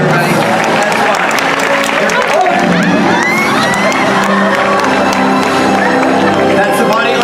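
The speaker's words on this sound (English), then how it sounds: "Let's give him a big round of applause, everybody" An audience at a theme-park special effects show bursts into loud applause, cheering and whoops, with children shouting; the crowd noise is close and sustained.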